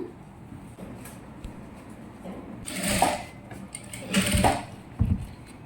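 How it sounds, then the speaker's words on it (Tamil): Sewing machine stitching a child's silk skirt, its motor whirring in short close bursts that rise and fall, with quieter pauses and light handling sounds between runs. "ஒரு சைடுக்கு தைச்சிட்டோம்"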